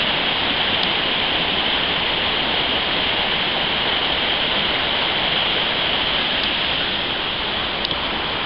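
Dry Creek Falls in winter, with icicles on the cliffs: a close, steady roar of falling water that stays loud and unbroken throughout, with no voices.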